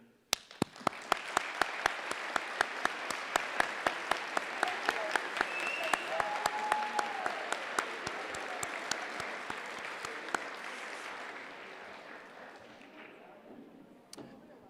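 Graduates applauding their families at a high school graduation ceremony: a broad, sustained wash of crowd clapping with distinct sharp claps punctuating it, gradually thinning and fading toward silence near the end, with a few late claps.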